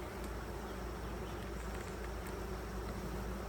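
Honey bees buzz around a nucleus colony hive, a dense continuous drone of many wings close by and steady throughout, with no talk.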